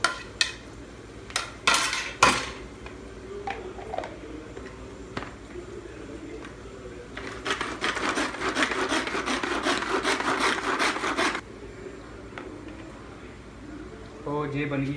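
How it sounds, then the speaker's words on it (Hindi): A hand chopper grinds tomatoes for a red sauce, giving a sustained rasping, rattling churn of several seconds, close and steady, after a few sharp knocks and handling clatter. "अब मैं हैंड चॉपर में टमाटर को ग्राइंड करूंगा"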